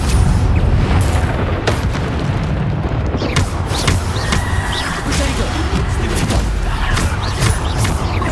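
Bombarda explosion spells in Hogwarts Legacy go off amid combat, with dense booms, bursts and rumbling effects layered continuously through the fight.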